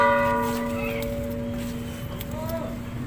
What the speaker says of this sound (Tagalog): Tumutunog kasi ang kampana kasi ganito talaga pagdating ng hapon